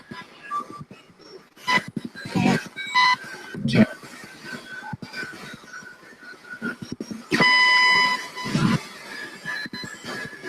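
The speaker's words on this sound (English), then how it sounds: "I think sweeping down makes that beep more prominent." A Memorex spirit box sweeps through radio stations, giving short bursts of static broken by repeated high chirps and beeps, with fragments of radio noise in between.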